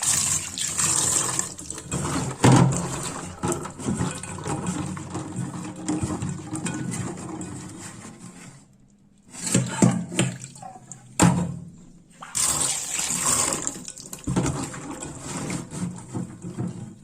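Water runs from a tap for soaking, a steady rushing stream that goes on for several seconds, pauses briefly, then flows again with some clatter in between.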